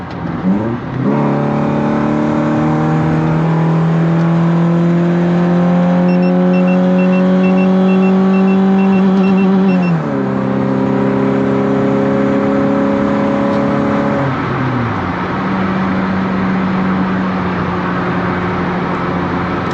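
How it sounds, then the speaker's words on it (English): A Subaru four-cylinder car engine pulls hard while driving, its drone climbing steadily in pitch, dropping with each gear change, then rising again. Steady and close, no talking. "It sounds nice, 4-cylinder. I love the way it sounds."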